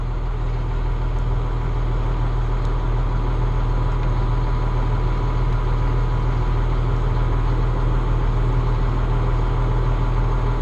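Heavy diesel engine under load on a rock-breaking machine, a loud continuous low drone with a steady hum that holds unchanged for about ten seconds with no voices.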